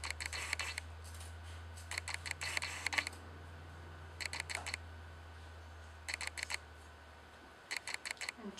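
Sewing scissors snipping fabric just beside a sewn seam, short clusters of crisp metallic cuts repeating in quick bursts with pauses between, close and fairly quiet over a low steady hum.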